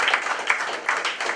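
An audience applauds at a formal gathering during concluding remarks, with moderate, uneven clapping rising and falling in short waves over a brief stretch, with no voices over it.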